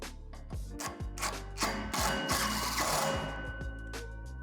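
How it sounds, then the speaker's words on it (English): A self-tapping screw is driven into the two steel poles of a Lifetime 44-inch in-ground basketball system, giving a run of rapid clicking, ratchet-like bursts with short pauses between them, close and fairly loud with no voice. "With the self-tapping screw, secure the 2 poles together through the hole in the back."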